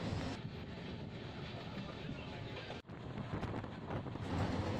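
A passenger train rolls from Mumbai's Bandra toward Jodhpur in the evening, giving a steady, loud rumble of wheels and carriage noise mixed with wind buffeting the microphone, with a brief dip partway through.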